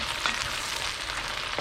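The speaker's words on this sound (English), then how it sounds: "we're just gonna pop these guys in there and cook them down with our onion" Mushrooms and onions fry steadily in olive oil inside a cast iron Dutch oven, a dense continuous sizzle with a brief clink near the start, close and unbroken, with no voices.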